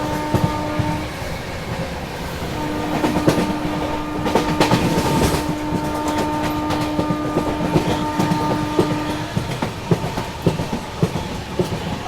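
Ananya Express train crossing at 120 km/h, a loud, sustained rush of wheels and carriages with steady clickety-clack rhythm and rattling bursts throughout, close by.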